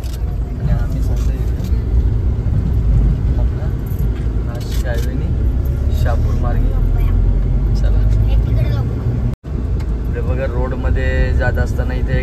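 Cars and other traffic roll along the Nashik highway past a slow, accident-related jam, making a continuous road and engine rumble heard from inside a vehicle. People talk over the noise throughout.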